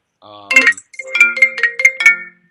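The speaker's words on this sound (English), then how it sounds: "Phone call ringing." A phone ringtone sounds loud and close, a short melodic pattern of bright electronic tones, heard on its own with no talking.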